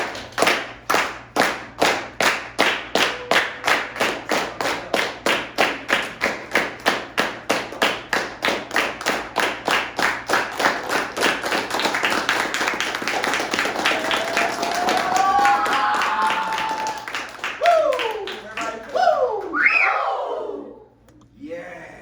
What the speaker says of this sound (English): I want y'all to start clapping your hands.